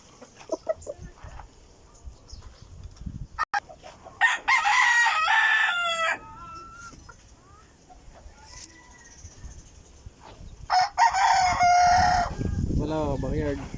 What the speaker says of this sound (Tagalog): Ang bilis singali ng ating mga alagang manok.